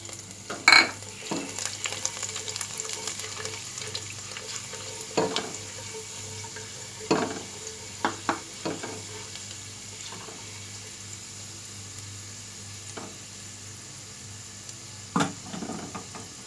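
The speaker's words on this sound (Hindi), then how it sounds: "इसको मैंने काट लिया है, ये डालेंगे" Quiet sizzling of chopped garlic frying in oil, with occasional clinks and stirring scrapes, close by and without talk.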